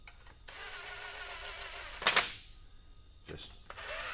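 An impact wrench runs intake bolts down on an LS engine swap in a K5 Blazer, one steady whirring run of about two seconds with a sharp burst near the end, then a brief short pulse.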